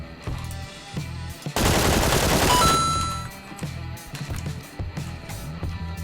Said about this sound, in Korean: 제가 총소리를 냈기 때문에 제 위치가 대충 뽀록이 났고